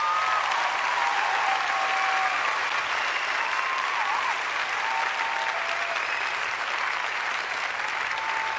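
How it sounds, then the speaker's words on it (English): A big round of applause from an audience closing an urban sketching talk, steady dense clapping sustained at an even level throughout with no break. "Thanks very much, and you get a big round of applause."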